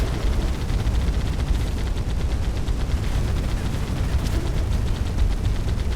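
Dense, continuous rapid weapon fire in the Moon Breakers video game, a loud sustained barrage of fast shots with heavy low rumble and no pauses.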